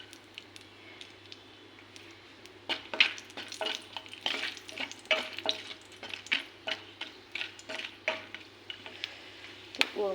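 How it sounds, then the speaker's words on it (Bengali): Whole spices (cardamom, clove and cinnamon) frying in hot oil, with faint sizzling and a run of quick scraping stir strokes and light taps against the pan, over a steady low hum. "নিয়েছি তো সেই তেলের মধ্যেই দিয়ে দেবো কিছু গরম মশলা"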